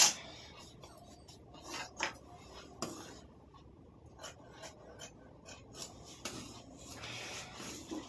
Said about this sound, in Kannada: ಈಗ ಇದು ಕಟ್ ಮಾಡ್ಕೊಂಡ್ಬಿಡೋಣ.